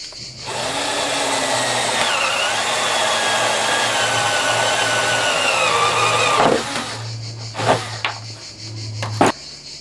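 A power drill whines steadily as it bores a hole through a plastic drum, its pitch shifting as it cuts, then it stops, followed by a few short bursts of drilling.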